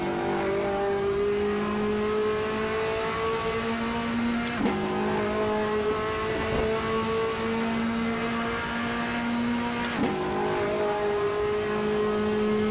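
A Corvette racing car in the Assetto Corsa video game revs hard and climbs through its gears, with a sharp upshift every few seconds. The loud, continuous engine note has no voices over it.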